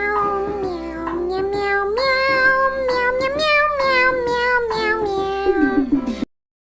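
A cat meows loudly and continuously in long, wavering calls that rise and fall, up close and alone, then stops abruptly.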